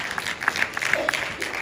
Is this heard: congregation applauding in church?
yes